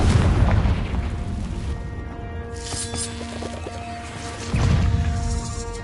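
Confringo spell explosion in the video game Hogwarts Legacy: a heavy, booming blast at the start, ringing tonal magic effects in the middle, then a second loud burst near the end.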